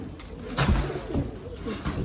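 Pigeons in a loft give soft, throaty coos with a brief rustle of movement, close and fairly quiet against a faint background hiss.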